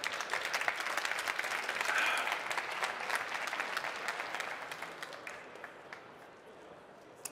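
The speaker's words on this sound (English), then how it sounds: "Please give applause and have fun." Audience applause at a science slam event, a dense, even roar of many hands clapping that swells early on and then gradually thins and fades toward the end.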